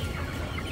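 Live chickens of two colours at a halal live-poultry market in New Jersey give a short burst of clucking, close and fairly loud with no talk over it.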